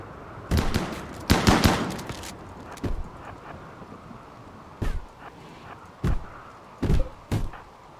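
Scattered shots of video-game gunfire as colonists open fire, loud bursts and single cracks coming in irregular clusters over a quiet, faintly windy backdrop.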